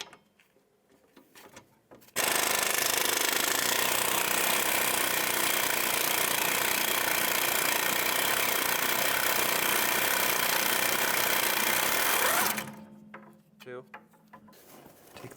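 A power impact tool removes the rear wheel hub bolts on a 2006-2011 Chevrolet HHR, giving one loud, continuous rattling hammer lasting about ten seconds, framed by quiet workshop handling noises before and after.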